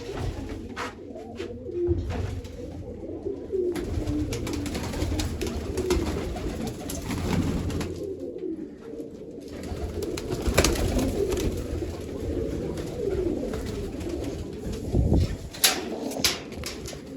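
Pigeons coo softly and repeatedly in a rooftop loft with baby pigeons, a low rolling murmur from several birds continuing throughout, with occasional faint rustles and knocks nearby.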